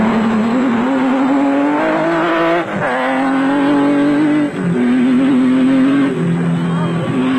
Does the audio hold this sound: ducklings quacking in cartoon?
no